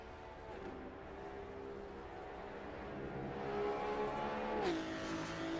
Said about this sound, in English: you're going to hear a car coming round